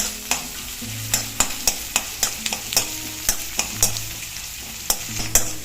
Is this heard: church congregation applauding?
no